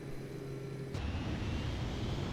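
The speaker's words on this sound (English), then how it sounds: "God, the engines are noisy on this one" Boeing 737-200 jet engines roar in a flight simulator cockpit, a steady broadband rumble and hiss that shifts slightly in tone partway through, with no talking.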